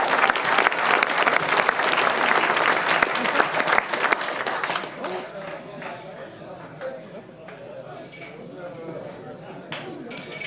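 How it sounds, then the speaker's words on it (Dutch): An audience at a regional sports and entrepreneur awards evening applauds the 2016 sports talent winner with loud, dense clapping that fades after about five seconds into quieter room noise, faint clinks and murmuring voices. "En we willen graag nog een enorm applaus voor deze winnaar."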